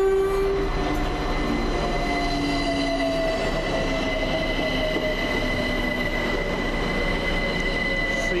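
A London Overground train departs Gospel Oak, with a continuous rumble under steady squealing and whining tones from wheels and motors, close and constant throughout.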